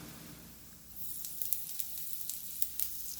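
Cumin seeds, dried red chilies and asafoetida sizzle in hot oil, a steady bright hiss that swells after a quiet start and is punctuated by sharp crackling pops and spits, heard close and alone.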